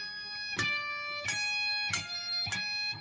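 Four picked guitar notes of a diminished arpeggio over a pedal point, each sharply attacked and ringing on into the next, in an even, moderately paced repeating pattern, played alone and fairly quiet.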